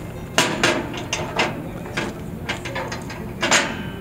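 Metal lid of a 48x24 Argentine grill with brasero being closed, a series of clanking metallic knocks and scrapes at uneven intervals, close by.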